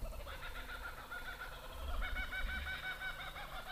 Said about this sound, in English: You can hear the kookaburras.